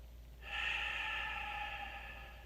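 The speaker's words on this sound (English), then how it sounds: "Take 3 big deep breaths" A single deep breath taken while pausing in a foam roller stretch, heard as one long, close, breathy exhale lasting about two seconds over a low hum, with no talking.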